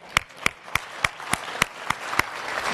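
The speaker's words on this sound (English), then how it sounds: "so I want to give him a round of applause" An audience at a talk on front-end page speed applauds a team member sitting in the front row. About nine sharp, evenly spaced claps ring out in a quick, regular rhythm, fairly quiet, over a light background hiss.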